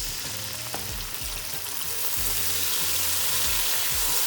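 Water poured into a pan of frying whole spices and onions (chili, cinnamon stick, cloves) for chana pulao, giving a steady close sizzle and bubbling that swells louder toward the end, with faint stirring clatter and no voices.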